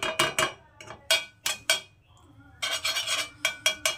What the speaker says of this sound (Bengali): প্রথমেই দিয়ে দিচ্ছি প্যানের মধ্যে একটু ঘি